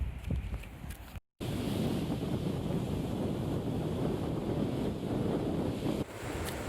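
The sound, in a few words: wind blowing outdoors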